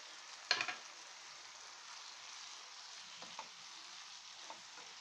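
Tomato pieces frying in a capsicum masala curry: a faint, steady sizzle after a brief clatter as they drop in, with a couple of soft stirring knocks later.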